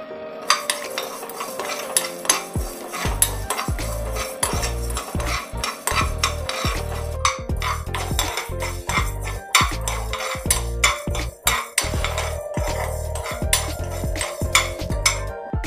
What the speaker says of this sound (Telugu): దీనిలో కొంచెం ధనియాలు వేసుకొని వేయించుకోవాలి.